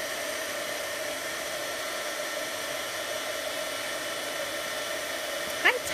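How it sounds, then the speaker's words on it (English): A heat tool blows hot air in a steady, whining rush that stays constant throughout, ending with a brief click. "I'm just heating this up with my heat tool."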